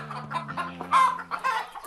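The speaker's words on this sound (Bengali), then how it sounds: "শাকচুন্নি গিয়ে একটা মুরগিকে খপ করে ধরে ফেলে।" Cartoon chicken clucking and squawking in short bursts as it is suddenly grabbed, the hen's calls loud and close over a low background hum.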